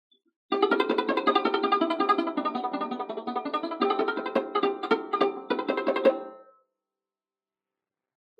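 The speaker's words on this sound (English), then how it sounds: "But if I play sarod with fingertip, it will sound like this." A sarod string plucked with the fingertip gives a dense run of quick notes with a soft, muted attack, close and moderately loud, stopping abruptly after about six seconds.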